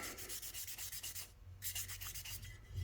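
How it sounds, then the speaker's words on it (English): A Scotch-Brite pad scrubs the float of a two-jet carburetor from a 1965 Chevelle, a close, steady run of quick rhythmic rubbing strokes with one brief pause. "I can scrub that float with a piece of Scotch-Brite"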